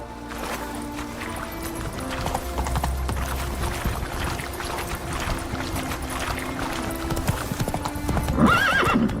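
Roach the horse galloping in The Witcher 3, rapid continuous hoofbeats under game ambience, building to a loud whinny near the end.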